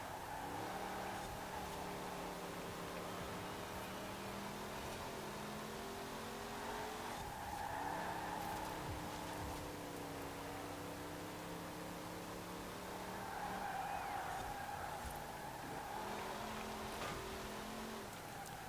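A car in Forza Horizon drives with a steady engine drone, shifting pitch as it accelerates and changes gear, with tyre noise throughout and no talking.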